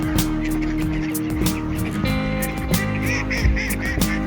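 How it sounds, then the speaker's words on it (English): A crowd of geese and ducks honk and quack together continuously in winter at Niagara Falls, Canada, close by and loud, overlapping calls filling the air. "Isn't that fun to hear them all? Quacking and honking."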